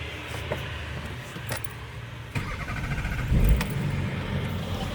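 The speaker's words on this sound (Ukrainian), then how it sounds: "Авто, як не дивно, заводиться." A used DAF ADR tanker truck with 1.2 million km on it starts up: a sharp crank partway through catches into a steady, loud diesel rumble that builds and keeps running close by.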